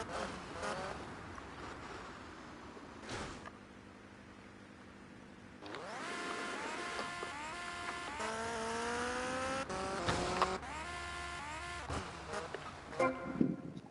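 A motorcycle in GTA Vice City revs hard with rising engine tones, then crashes with a few sharp impacts and scraping noises against steady game background sound.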